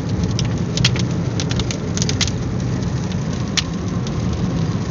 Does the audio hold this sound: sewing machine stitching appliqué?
no